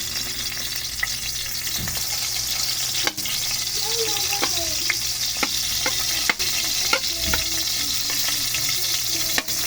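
Garlic sautéing in hot oil in a pan for adobo: steady close sizzle and crackle with a few scraping stirs and light clinks, no talk.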